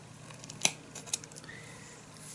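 Scissors snip the plastic end of a zipper tape, two quick faint cuts about half a second apart over a quiet room hum.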